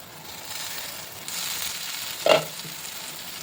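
Chili masala frying in oil in a pan for paneer curry gives a soft, steady sizzle with a brief sharper crackle and clink partway through.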